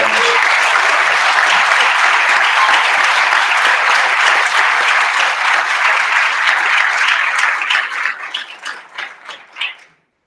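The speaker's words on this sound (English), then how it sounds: "So one more round of applause for everybody." Loud, sustained applause from a sizable crowd at a university all-staff meeting, dense clapping that holds steady, then thins into scattered claps and fades out.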